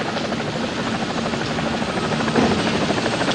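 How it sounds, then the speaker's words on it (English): Helicopter rotors and engines thrum loud and steady on an aircraft carrier flight deck, a continuous close-up roar with a dense, even beat that swells slightly near the end. "All helos in starboard delta so we clear them for landing."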